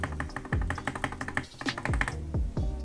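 Mechanical keyboard with Gateron Oil King switches and a flipped spacebar being typed on, a close run of sharp clacks with several deeper, heavier thocks from the spacebar spaced through the sequence.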